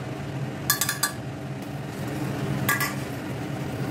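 A metal spoon stirring dry ginger and cardamom powder into milk in a pot, giving two short clusters of clinks against the rim over a steady low background.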